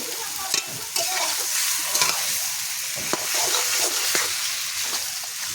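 Fish frying in a pan over a wood-fired stove, a constant close sizzle broken by the scrapes and taps of stirring, with no talking.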